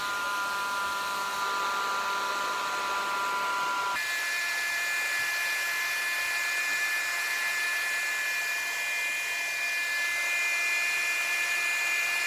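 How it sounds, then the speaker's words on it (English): A blow dryer on its cool setting runs steadily throughout, a loud whooshing hiss with a high whine that shifts pitch slightly partway through, no voices. "Oh, make sure you put your blow dryer on cool."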